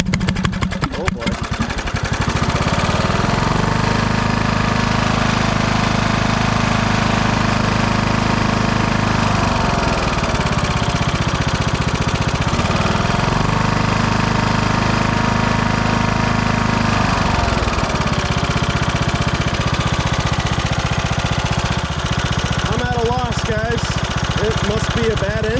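Craftsman YTS 3000 lawn tractor engine, suffering heavy blow-by, running steadily up close with a loud low rumble and a couple of brief dips in pitch.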